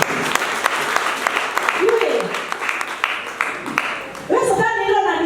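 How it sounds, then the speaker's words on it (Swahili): Church congregation clapping for their bishop at a 26th wedding anniversary service, a dense stream of close applause with voices talking and calling over it. "Tumpigie bishop wetu makofi."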